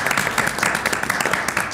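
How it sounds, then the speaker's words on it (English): An audience at a mayor and council meeting claps briefly, a short burst of many hands applauding in a room, dense and fairly close, with faint voices underneath. "Well, let's give him a round of applause."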